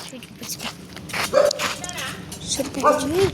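A pet dog gives a couple of short barks and yips close by, mixed in with people talking over it.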